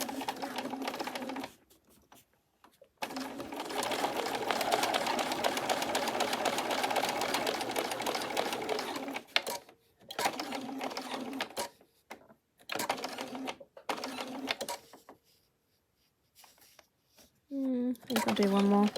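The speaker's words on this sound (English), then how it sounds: "I'm going to sew it around the outside" A domestic sewing machine stitches around the outside edge of a fabric unicorn ear for a bag, running in long steady bursts with brief pauses between them, fairly close and clear.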